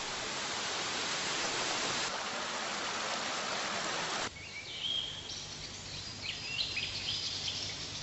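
Water pours loudly at the spring of the Río Cuervo, a dense continuous rush that cuts away halfway to quieter flowing water with birds chirping nearby.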